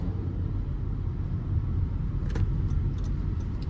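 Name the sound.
Honda WR-V RS driving over speed bumps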